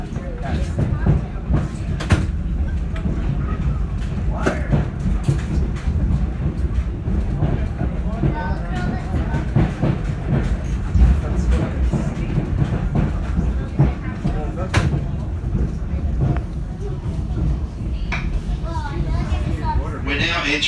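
Heritage train rolling through Niles Canyon between Sunol and Niles, a steady loud rumble of wheels and carriage with occasional clatter and wind buffeting the microphone, continuous throughout with people talking faintly in the background.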